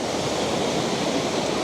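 A waterfall in Cambodia rushes close at hand with a dense, steady roar of falling water that stays loud and unbroken throughout, with no voices.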